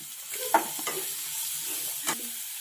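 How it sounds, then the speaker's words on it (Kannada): Garam masala spices fry in a pan with salt and turmeric, giving a soft, steady sizzle with a few brief scrapes and taps from stirring, close and on their own. "ಇದು ಮಸಾಲ ಹಸಿ ಸ್ಮೆಲ್ ಹೋಗೋವರೆಗೂ ಸ್ವಲ್ಪ ಫ್ರೈ ಮಾಡ್ಕೋಬೇಕು"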